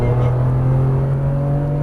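A GT3 race car's engine pulls steadily under throttle on a circuit at Lurcy, a loud continuous drone with a strong low tone and no break across the whole stretch.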